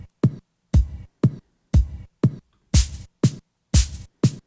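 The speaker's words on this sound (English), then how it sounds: "it sounds like a kick drum with a snare layered on top" Punchy electronic kick drum layered with a noise-burst snare pitched an octave higher, programmed in Ableton, playing about nine evenly spaced dry hits, some with brighter, noisier tails; no talking.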